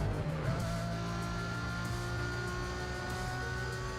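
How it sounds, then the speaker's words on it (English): Lamborghini Murcielago V12 engine in Need for Speed Most Wanted, a steady loud droning hum holding close and continuous throughout, with a brief swell near the start. "The Lamborghini Murcielago. Oh, it sounds so nice."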